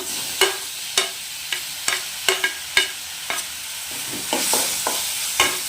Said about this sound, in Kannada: ಟೊಮೆಟೊ ಎಲ್ಲ ನೀಟಾಗಿ ಸ್ಮ್ಯಾಶ್ ಆಗಬೇಕು, ಅಲ್ಲಿ ತನಕ ಫ್ರೈ ಮಾಡ್ಕೊಳ್ಳಿ